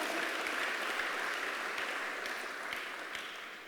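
A church congregation claps steadily together, a dense wash of applause that slowly fades over a few seconds.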